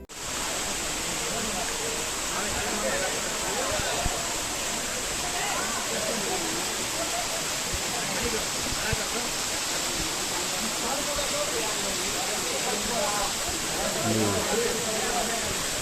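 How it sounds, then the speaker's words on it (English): Water pours steadily at Kiliyur waterfall in Yercaud, a dense, unbroken roar of falling water filling the scene, close and constant with no break. "You can check the sound of water at the waterfall."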